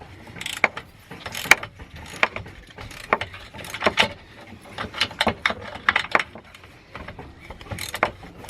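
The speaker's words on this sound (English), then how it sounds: "I've just undone the back one. I'm going to tighten it back up again." A ratchet tightens an anti roll bar drop link bolt on a car, a close run of quick clicking bursts with light metallic knocks and clinks at an irregular pace.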